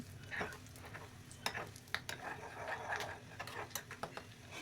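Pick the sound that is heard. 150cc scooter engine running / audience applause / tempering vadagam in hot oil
tempering vadagam in hot oil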